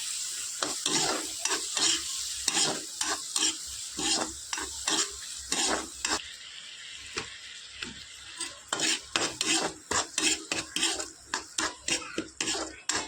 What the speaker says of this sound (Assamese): ইয়াত বিলাহী এটা কাটি পিনে অকণমান জহি যাবলৈ ভালদৰে লৰাই দিওঁ